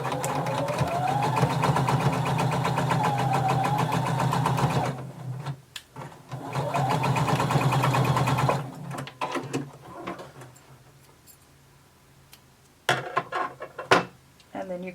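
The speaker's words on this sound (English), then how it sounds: "now we're going to sew them together using 5/8 of an inch seam allowance" A sewing machine runs in two long continuous bursts, joining two garment pieces with a 5/8-inch seam allowance, with rising and falling motor whine; it stops midway and at the end, followed by quiet handling clicks and fabric rustle.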